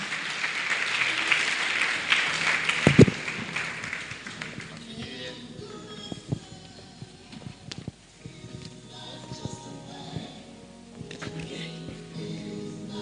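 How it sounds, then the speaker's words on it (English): Audience applause at a scholarship award ceremony, a broad patter of clapping for the first few seconds with a sharp bang near three seconds, then thinning to scattered claps, taps and murmuring crowd noise. "Keep on clapping until she gets here"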